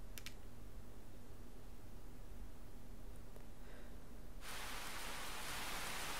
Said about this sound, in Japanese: 穏やかな雨が降る。